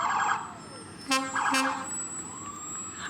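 Fire truck siren in a fall fair parade, two short loud horn-like siren blasts over distant crowd and engine noise, fairly close.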